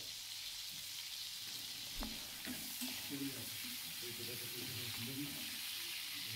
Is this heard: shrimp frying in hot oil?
yes